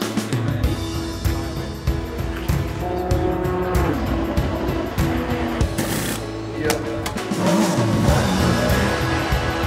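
Race cars at the Nürburgring during the 6 Hours endurance race roar close by with screeching tires as a Porsche spins and another car takes the escape road, loud continuous engine noise throughout.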